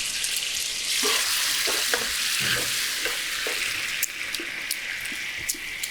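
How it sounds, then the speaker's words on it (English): Tomatoes cooking down in a pan and releasing their water give a broad, bright sizzle, with soft spoon stirs and clicks against the pan scattered throughout. "the tomatoes are now starting to cook. They're releasing their water"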